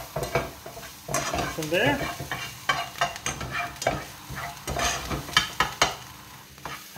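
Bacon and onions frying in a pan and stirred with a utensil, a close sizzle cut by repeated scraping strokes and knocks against the pan, while a brief voice speaks.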